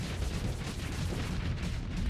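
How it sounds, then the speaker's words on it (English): Heavy mortar fire pounding a ship's armor in a space combat video game, a dense rumble of dull booms and thuds repeating rapidly, loud and continuous with no pauses. "our Hammer over here with its heavy mortar, just plonking away at its armor"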